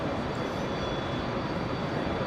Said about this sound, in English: That sounds like one of the engine cowlings has been open.